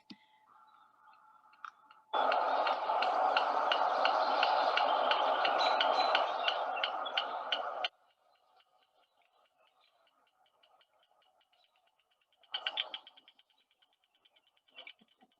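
A cricket frog gives a rapid run of dry, pebble-like clicks. A long dense burst is followed later by a shorter cluster, with quiet gaps between.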